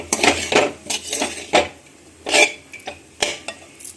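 A utensil scrapes and clinks against a pan while chamakoora and potato curry is stirred, in irregular bursts of metallic scraping separated by short pauses.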